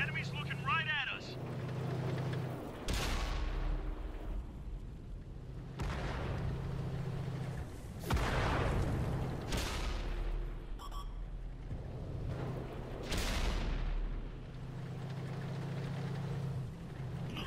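Tank cannon shots fired at a KV-4's cupola in World of Tanks, several loud, sharp blasts spaced a few seconds apart over a steady low engine drone, with someone talking in between.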